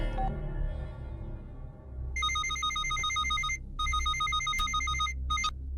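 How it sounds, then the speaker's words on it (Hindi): A telephone rings in repeated electronic trills, two long bursts separated by a short pause, over a low background rumble. "घंटी बज रही है, कोई फोन नहीं उठा रहा है"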